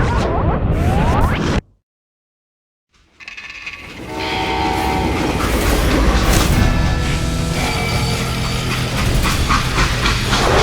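A video game freight train rumbles loudly with clanking cars and a whistle-like tone, cutting briefly to silence before the heavy rolling noise returns and continues.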